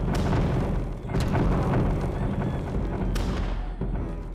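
In the Totally Accurate Battle Simulator battle game, hwachas and a cannon fire continuously, producing a dense, rumbling wall of booms and thuds punctuated by a few sharper, louder blasts, with no voices.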